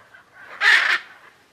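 A single loud, harsh squawk from a hyacinth macaw, abrupt and close, rising out of quiet surroundings in the Pantanal.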